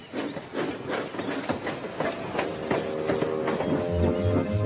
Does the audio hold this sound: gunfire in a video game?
no